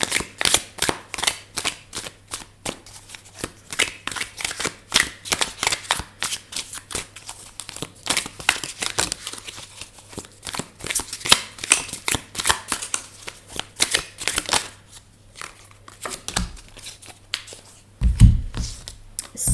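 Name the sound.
shuffling a deck of message cards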